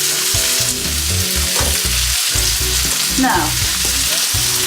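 Garlic and onions frying in a pan for a quick Italian tomato soup, giving a loud, continuous sizzle with stirring scrapes throughout, and a brief word spoken over it.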